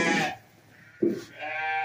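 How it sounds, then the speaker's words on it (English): Sheep on a farm bleating as they come in to be fed their corn, two or three short, nearby bleats separated by brief quiet gaps. "So the sheep are coming in,"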